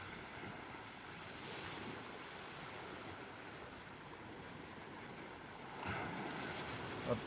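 Sea waves surge on big tides at a blowhole at Ogmore Deeps on a rocky shore, a continuous roar of surf with wind buffeting the microphone and swells building louder toward the end.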